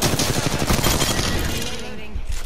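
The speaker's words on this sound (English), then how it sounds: "Yeah, he's going out of the wing and I'm gonna shoot him. Go there and shoot him." Dense, loud automatic gunfire fills a short stretch of Apex Legends gameplay, a continuous rattling fusillade up close that thins out toward the end.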